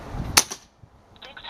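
A Kral Puncher N-07 air rifle fires once, a single sharp, loud crack up close that fades quickly into near silence.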